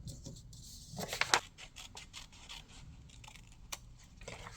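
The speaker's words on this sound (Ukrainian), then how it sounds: "Тепер беремо ножиці і вирізаємо її." A few quiet snips and scraping rustles of scissors cutting a paper semicircle for a children's appliqué, with soft handling noises in between and no talking.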